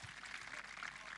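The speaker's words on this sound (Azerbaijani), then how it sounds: "Alqışlayaq Namiq Mənanı." An audience applauds at a stage show for the performer Namiq Mena, with steady, moderately faint clapping throughout.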